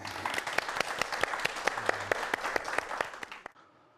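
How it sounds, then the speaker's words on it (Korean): Applause from a modest studio audience before a lecture on printing technology, sparse distinct claps over a softer patter, fairly faint, stopping abruptly near the end. "박수 부탁드립니다."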